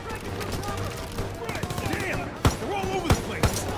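Machine gun fire in the Call of Duty WWII campaign: sustained battlefield shooting with several sharp, loud reports, mixed with voices talking.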